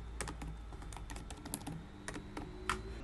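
Entries typed on a computer keyboard: a quiet, irregular run of close plastic key clicks and taps, with a slightly louder stroke near the end, no voices.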